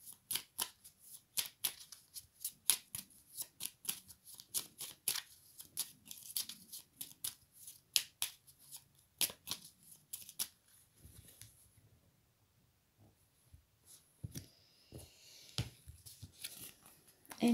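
Oracle cards being shuffled by hand, a quiet run of crisp rapid riffles and flicks in irregular bursts, close and alone with no talk.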